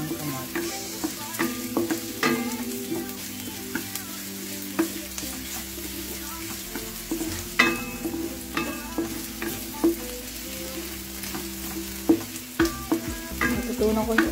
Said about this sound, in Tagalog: Lutuin lang natin yung sibuyas